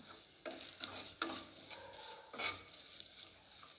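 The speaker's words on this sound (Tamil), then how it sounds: "ஆல்மோஸ்ட் நம்ம சர்க்கரை அந்த ஸ்டேஜுக்கு வந்துருச்சு, கேரமலைஸ் ஆக ஆரம்பிச்சிருச்சு நல்லா உருகி" Sugar melting and caramelizing in a pan while being stirred for a crunchy mixture snack, with soft scraping stirs and a faint sizzle, quiet and close, a few sharper scrape accents.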